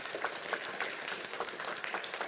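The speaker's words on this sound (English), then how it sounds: "I ask you all to put a large round of applause forwards for our whānau here today" An audience applauding at a candidates' meeting for tribal elections, a steady patter of many hands clapping at moderate volume with no voices over it.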